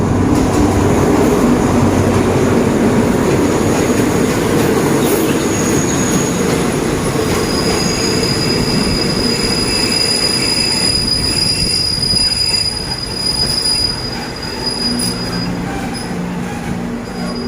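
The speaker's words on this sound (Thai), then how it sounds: "ตอนนี้มีขบวนรถกำลังเข้าจอดนะครับ" A train drawn by Alstom locomotive 4225 pulls in beside a bridge station in Thailand, with a steady loud rumble of wheels on rails and high, sustained squeals from the wheels that ease off as it slows.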